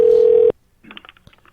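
A loud, steady telephone tone drones for half a second and cuts off abruptly after the phone is hung up, followed by faint, muffled voices in the background.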